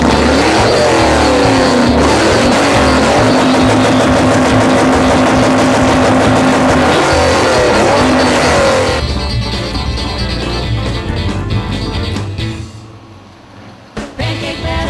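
A hot rod engine at a rockabilly car show roars loud and sustained with a harsh exhaust rumble, then drops back and sputters near the end, with crowd noise and no clear talking.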